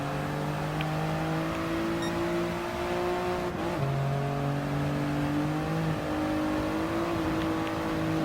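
A Toyota GR Yaris RZ First Edition engine in Gran Turismo Sport drones steadily at high revs, its pitch dropping and climbing again at gear shifts.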